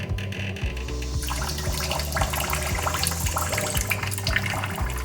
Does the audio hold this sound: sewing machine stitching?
no